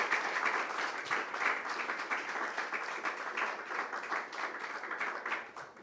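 A church congregation claps for the Lord during a Spanish-language sermon: a sustained, even round of applause from many hands, fairly loud and steady with no speech over it.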